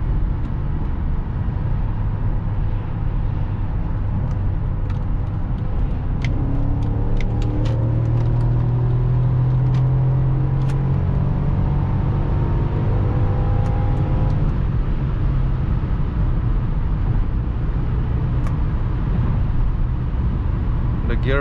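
V8 car engine under full throttle, a steady loud rumble with rising harmonic tones as it gains speed, heard from inside the car with constant road and wind noise.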